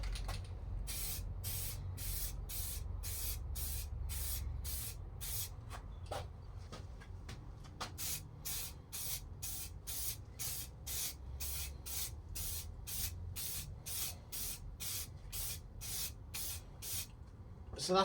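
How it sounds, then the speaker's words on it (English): Primer paint sprayed from an aerosol can onto the boot of a Vauxhall Vectra B, in many short, sharp bursts of hiss repeated at a steady rhythm, fairly close and with no talking. "So that's the primer on."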